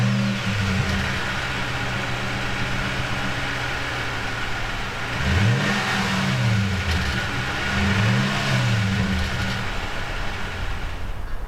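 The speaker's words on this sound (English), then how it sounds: "Just got finished installing a TRD Dual Exhaust kit on the Tundra." A Toyota Tundra's engine growls through a TRD dual exhaust kit with stainless steel tips, settling into a steady idle and then rising in two strong revs that fall back, close and clear with no talk.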